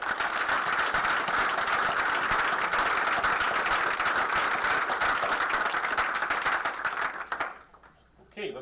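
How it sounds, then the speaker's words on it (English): Dense, sustained audience applause fills a White Coat Ceremony hall for about seven seconds, loud and steady, then quickly dies away to near quiet. "So I'd just like everyone, once again, to give Dr. Blythe a big round of applause"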